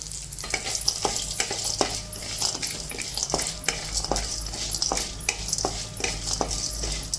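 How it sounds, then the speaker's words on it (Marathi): Cashews roasting in a pan over low to medium flame with chana dal, giving a steady sizzle and periodic scraping stir strokes, close and moderately loud, with no talk. "आता काजू भाजते"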